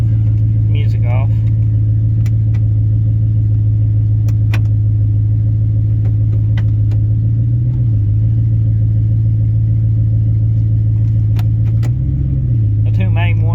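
A Ford F150 truck engine idles steadily and loudly while being shifted through its transmission gears, with two short dips in engine tone as the gears engage.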